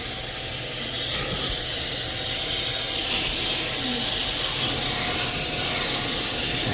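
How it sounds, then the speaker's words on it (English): A continuous hissing spray of hot water from a UWANT B400 spot cleaning machine running close by, loud and unbroken, with faint mechanical tones underneath and no talking. "You got to be careful because the water tries to spray everywhere."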